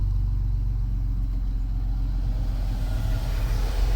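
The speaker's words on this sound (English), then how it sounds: "As you can hear, I fixed the problem on my truck. The AC is working again." A Jeep Grand Cherokee Limited's air conditioning running on high with the engine idling, a steady low rumble and constant airflow hiss, close and unchanging.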